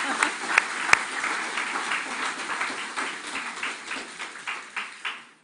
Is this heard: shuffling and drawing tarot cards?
no